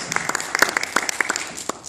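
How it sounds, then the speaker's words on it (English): An audience at a university gathering applauds a professor, with brisk, distinct claps from a smallish crowd, close and fairly loud over two seconds. "Let's give Professor Tochon our first applause first, please."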